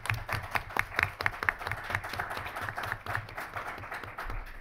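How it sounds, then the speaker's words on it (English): A conference audience applauds award recipients, a modest round of scattered hand claps from a small crowd that is fairly dense at first and thins toward the end. "we'll give them a round of applause"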